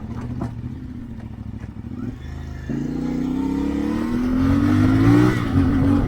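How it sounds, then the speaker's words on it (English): A CFMoto 450MT motorcycle with its stock exhaust gives a deep rumble that rises as the engine revs and pulls away, loud and close, with no talk over it. "the best thing on this bike is its stock exhaust sound. It's great, it's loud, it has a rumble, so you can hear it on this video"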